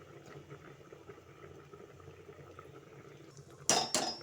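A spoon stirs brinjal and bottle gourd in a cooking pot of dalcha: a quiet simmering background, then two loud, close metallic scrapes and clanks near the end.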